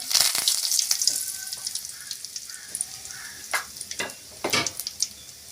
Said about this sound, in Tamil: கடுகு 1/4 டீஸ்பூன் சேர்த்துக்கலாங்க.